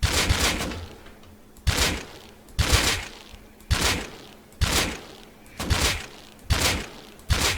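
Gunfire in the video game Rust during recoil practice, about eight loud, sharp shots spaced roughly a second apart, each with a booming tail, no talk.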